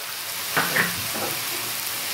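Broccoli pasta with a splash of soy sauce sizzles steadily in a frying pan, with a couple of soft stirring scrapes partway through over a continuous hiss.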